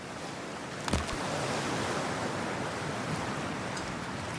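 A character entering cold water in the Cyberpunk 2077 video game: a brief splash followed by a steady, wide wash of underwater or surf-like noise that continues evenly and alone for several seconds.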